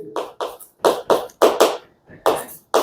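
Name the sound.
class applause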